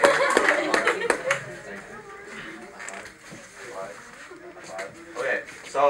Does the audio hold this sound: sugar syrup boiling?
no